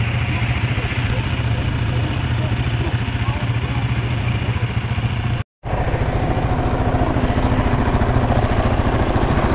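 A Yamaha Raptor 700 ATV engine running steadily at idle, a loud, close, continuous thumping single-cylinder drone with a brief cut-out midway before resuming.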